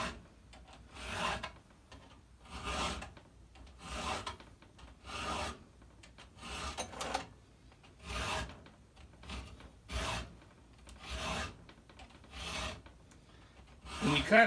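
Chainsaw chain being touched up with a STIHL 2 in 1 filer, about nine rhythmic rasping strokes at an even pace, close and fairly quiet, with no talking.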